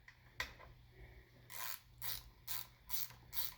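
Bolts being snugged down on an old Homelite chainsaw with a ratchet: about five short bursts of clicking in steady rhythm, close and fairly quiet, with no talk.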